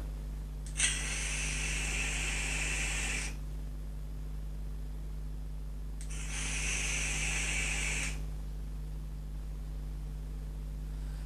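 Two drags on a Dotaio Mini dotmod e-cigarette, each a steady airy hiss lasting about two to three seconds, close and moderately loud over a low background hum, with a pause between them.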